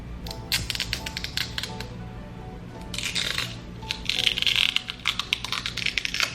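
Foil seal peeled off a Glossier Wowder face powder jar, a close run of crinkly tearing and rustling with sharp crackling bursts, intermittent then denser toward the end, with no talk.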